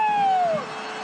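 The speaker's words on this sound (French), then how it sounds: "Vous entendez la sirène." An end-of-match siren sounds in a sports arena, a single loud descending tone that holds for about half a second and then cuts off, leaving crowd ambience.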